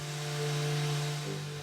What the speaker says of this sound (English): removing the rest with a power sander.